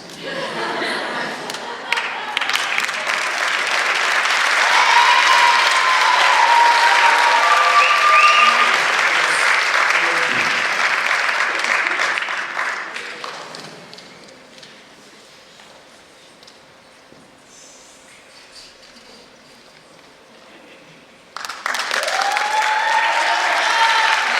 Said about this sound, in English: Can we have one more big round of applause for Coach Regina?